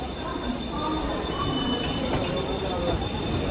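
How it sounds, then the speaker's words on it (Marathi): A train pulls out of a station with a steady, close rumble and a thin, continuous wheel squeal, while faint voices murmur underneath. "ट्रेन गेली यार."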